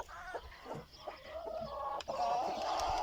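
Chickens and a rooster in a coop cluck and murmur while pecking at watermelon, with a steady run of close, soft clucks and occasional louder squawks.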